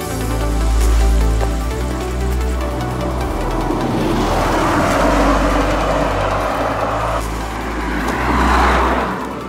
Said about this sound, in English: the cars are passing like 80